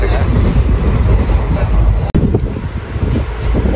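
Passenger train on a trip to Thanjavur rumbles along the rails with a loud, continuous rolling roar and wind buffeting heard from inside. There is a brief dropout midway.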